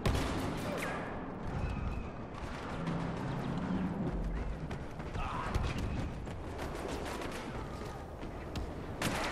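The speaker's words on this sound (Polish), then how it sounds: "Tu są wybuchy jakieś." Chaotic battle din from a Star Wars Battlefront game, with repeated booming explosions and gunfire bursts crowding one another, loud and dense, while a player talks over parts of it.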